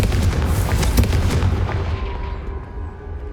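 Confringo blasting spell from Hogwarts Legacy, a loud booming explosion with a heavy low rumble and crackling burst that fades away over a few seconds.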